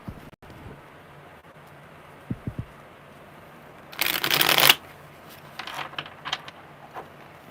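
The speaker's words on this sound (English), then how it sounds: "one more good shuffle" Tarot cards are shuffled in one brisk, crisp riffle close to the microphone, preceded by a few light taps and followed by soft handling rustles, in an otherwise quiet room with no talking.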